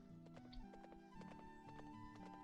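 In the Roblox game Factory Town Tycoon, a horse's hooves clip-clop in a steady, quick rhythm of hollow ticks over game music, fairly quiet and unaccompanied by talk.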